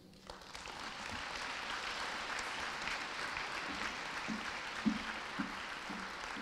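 Applause from an audience at a Ferencváros Day award ceremony, steady and sustained throughout with a couple of sharper claps near the end, moderately distant and even.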